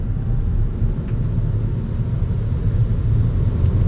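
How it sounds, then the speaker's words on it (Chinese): A Proton e.MAS 7 electric car accelerating on a highway, heard as a steady low road and wind rumble from inside the cabin, without any engine note. "所以我们就来测试这个高速，同样的1:1测试加速"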